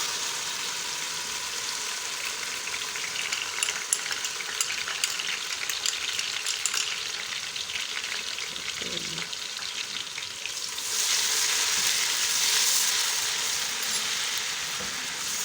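Ginger garlic paste sizzles in hot oil for urad dal (daal mash), a steady close frying crackle that brightens and grows louder near the end, with no talking.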